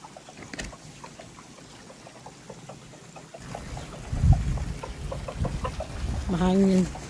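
Chickens cluck and murmur close by in short bursts, with a few louder calls toward the end over light outdoor background noise.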